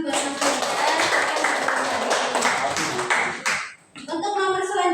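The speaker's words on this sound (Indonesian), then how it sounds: "Boleh tepuk tangan buat Mas Wildan." Classroom applause for a student, a dense burst of clapping from a group that runs for several seconds, then stops abruptly before a voice speaks.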